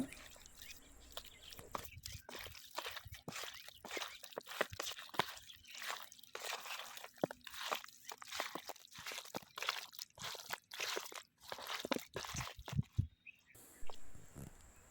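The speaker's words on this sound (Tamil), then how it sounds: "உப்பு சேர்த்து நல்லா மிக்ஸ் பண்ணி விட்டுக்கோங்க." Raw chicken pieces being mixed by hand with turmeric powder and salt in a bowl for a marinade: wet squishing and sticky slaps in a steady uneven rhythm, close and continuous, with faint speech at times.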